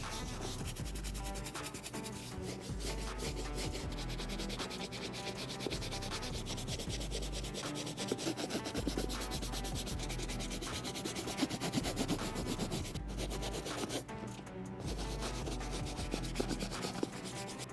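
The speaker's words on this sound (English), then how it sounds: "I'm gonna go back over the entire suede one more time using the medium bristle brush." A medium bristle brush sweeps steadily across the dry suede of a Jordan 4 sneaker, producing continuous close scratchy rubbing with no speech.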